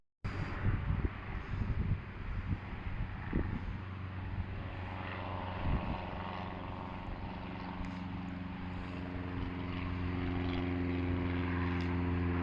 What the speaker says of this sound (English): got a plane taking off. I think it's a privately owned plane.